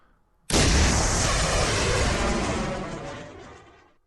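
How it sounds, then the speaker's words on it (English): A missile volley launched with electronic warfare active in the naval strategy game Command Modern Operations: one sudden, loud roaring blast that holds steady as a dense rush, then slowly fades over several seconds, with no talk. "let's turn on electronic warfare. And let's see our missile volley."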